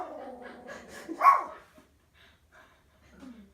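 A dog's bark and whimpering yips sound up close and fairly quiet, with one sharper bark in the middle followed by softer breathy whines.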